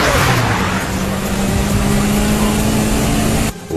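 An anime race car, a tuned Lancer Evolution from a highway street-racing scene, roars close up as it catches up from behind, its loud engine drone and rushing wind noise filling the scene before cutting off abruptly near the end.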